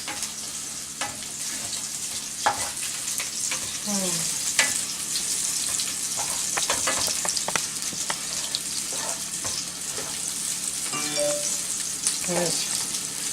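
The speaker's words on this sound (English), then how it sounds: "I'm gonna brown these up some more." Turkey sausage browns in a hot pan, a steady, close sizzle broken by scattered scrapes and stirring clatter, with a faint voice briefly in the background.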